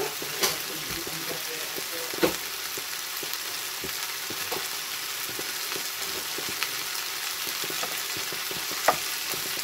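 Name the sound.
butter sizzling while frying in a pan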